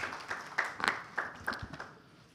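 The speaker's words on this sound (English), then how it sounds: "Please join me in a big hand of applause," An audience at a corporate fraud panel session gives light, scattered applause for a speaker, a handful of soft claps that are distant and faint and then fade away.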